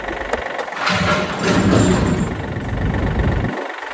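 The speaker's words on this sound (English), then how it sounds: "let's fire the little John Deere up and see what happens" A small John Deere lawn tractor engine running steadily at idle, a close, continuous rough mechanical drone for the whole stretch with no talk.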